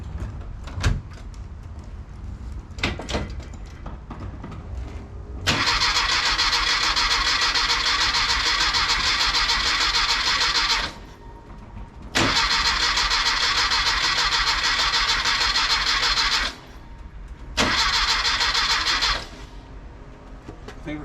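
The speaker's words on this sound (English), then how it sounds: "I just, you know, hope to crank a little bit to see if we can get oil through the motor." A rebuilt car engine cranked over to push oil through it, loud close starter whirring in three long bursts of several seconds each with pauses between, preceded by a few clicks and knocks.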